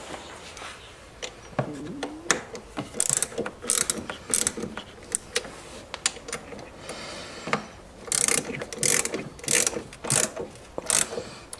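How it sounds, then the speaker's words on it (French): A ratchet fitted with a socket tightens the cylinder head bolts on a scooter during installation of an Artek K1 cylinder and piston kit, giving loud, close, repeated clicking strokes in bursts, alone without talk. "nous allons ensuite effectuer un serrage d'approche avec notre cliquet équipé de la douille qui convient"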